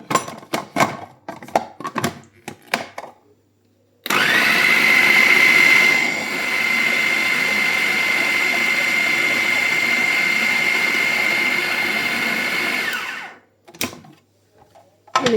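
A hand mixer whirs steadily for about nine seconds, blending a homemade natural ice cream mixture with a spoonful of liquid cream, then cuts off abruptly. Brief clicks and handling noises come before and after.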